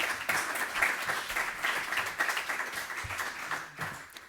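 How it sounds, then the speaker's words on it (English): Seminar audience at an artists' books event applauding to welcome an artist, a steady crowd of clapping hands throughout, moderately loud and continuous with no talk. "Please give him a warm welcome applause too."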